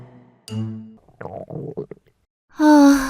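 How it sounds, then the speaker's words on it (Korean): A cartoon-style hungry stomach growl plays as a series of exaggerated gurgles and rumbles, ending in a long, loud groaning grumble, with no voices. "그래서 꼬르륵 소리가 멈출 줄을 몰랐어요."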